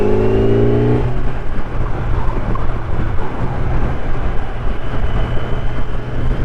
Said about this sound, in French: Peut-être aussi le bruit du moteur.